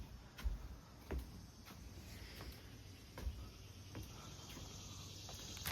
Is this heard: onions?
no